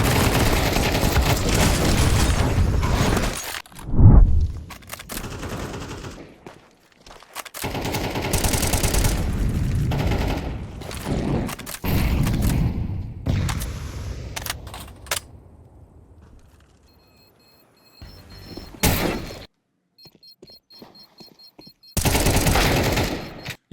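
Counter-Strike 2 gunfire on the Anubis map comes in repeated loud, close bursts of automatic and single shots, separated by short pauses and quieter stretches of in-game sound.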